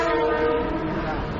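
Metro-North commuter train pulling into Marble Hill station in the Bronx, a loud, steady rumble of wheels and engine with a horn-like tone sustained throughout, close and continuous.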